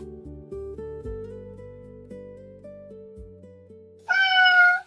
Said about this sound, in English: A pitiful cry came from outside the studio window.